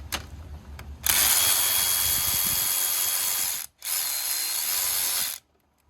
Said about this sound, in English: So now we're gonna remove this top screw